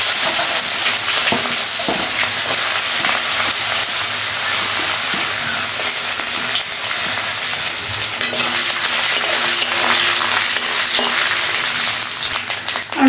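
Dried grated coconut fries in a little oil, giving a steady, dense sizzle that holds close and loud without pause, with faint stirring scrapes now and then and no voices.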